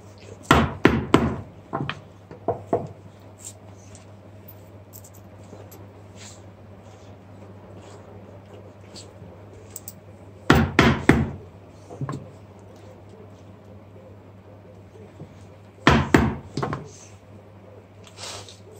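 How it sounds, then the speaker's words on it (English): Steel plate for a medieval Visby gauntlet hammered into a groove over a rounded steel form: three separate bursts of sharp metallic blows, each a quick run of strikes, loud and close, with quiet workshop hum between them. "take a steel form that's rounded, roughly the shape I need, and I'm going to hammer it in there"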